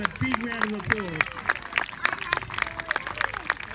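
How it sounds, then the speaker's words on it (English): Crowd at an outdoor stunt dog show applauding a disc dog team, with brisk overlapping claps, crowd noise and scattered voices throughout, at a moderate distance. "So please give them a big round of applause."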